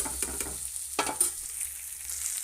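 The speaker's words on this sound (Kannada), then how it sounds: "ಫ್ರೈ ಮಾಡ್ತಾಯಿದ್ದೇವೆ ನೋಡಿರಿ" Okra fries in a pan with masala for sambar, making a soft, close sizzle with a few crackling pops and stirring scrapes over a low background hum.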